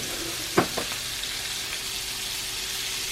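Garlic and butter sizzle in a pan on low heat while cooking salmon, a soft steady frying hiss with a brief sharp crackle near the start as the butter goes in.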